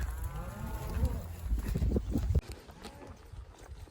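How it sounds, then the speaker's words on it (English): Cattle lowing during a summer cattle drive in Utah, with several loud moos close by over a steady low rumble of the moving herd, the noise dropping off sharply partway through. "Well, we're still cruising along, pushing these cows up."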